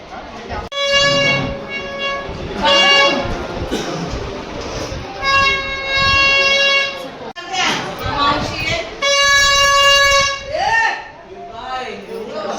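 A child's toy horn bought at a village fair gives about four long, steady, bright blasts, close and loud, while people talk nearby.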